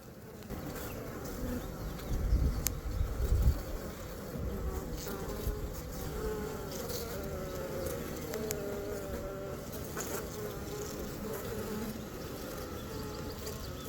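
Honeybees humming steadily around an open hive during an inspection, a close, continuous buzz with individual bees passing near, plus a few soft handling knocks early on.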